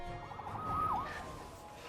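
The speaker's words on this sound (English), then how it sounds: "Saved by the siren." A police siren in the Spider-Man PS4 video game gives a single rising and falling wail over a low rumbling street background. It is brief and moderately loud, with no voices.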